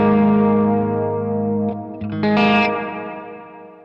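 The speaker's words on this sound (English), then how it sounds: "that's just the sound of the dark reverb" A sustained electric guitar chord through a Walrus Audio SLÖ reverb pedal on its dark setting blooms in a washy reverb, followed by a few strummed notes that ring out and slowly decay.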